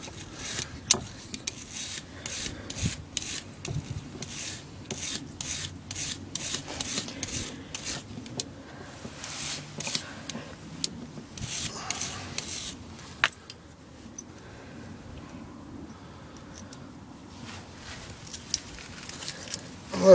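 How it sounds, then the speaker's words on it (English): Rust being scrubbed off brake caliper bolts on a 2010 Hyundai Sonata front brake job: repeated dry rasping and rubbing strokes in irregular bursts, close and steady, with no talking. "I'm going to clean them up a little bit, get some of that rust off there"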